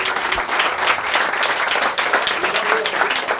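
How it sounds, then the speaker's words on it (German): Steady applause from a live talk-show audience, many hands clapping together in a dense, even patter at moderate loudness from start to finish. "Applaus!"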